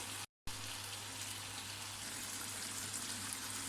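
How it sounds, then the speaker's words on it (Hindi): Water pours steadily into a pot of chicken curry (salan), a continuous soft splashing gush after a brief dropout, with a low steady hum underneath. "चलिए मैं इसमें पानी डालती हूँ"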